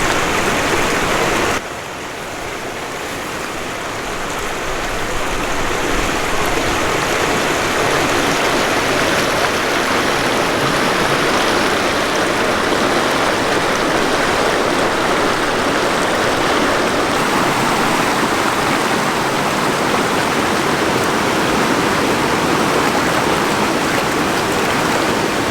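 A wilderness river runs out of Four Creeks Lake toward a lower lake, its rushing water a steady, loud, broadband roar that continues unbroken from start to end after a brief quieter opening moment.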